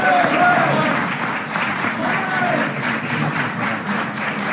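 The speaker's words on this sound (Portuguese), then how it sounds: "Muito aplaudido por todos os presentes nesta sala." Applause from an audience gathered in a room, steady and dense throughout, with a murmur of voices mixed in underneath.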